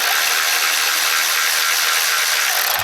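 Ratchet loosening the belt tensioner on a 1997 Jeep Wrangler TJ 2.5, a dense, close, rapid clicking rasp that runs steadily and loudly for a few seconds without pause.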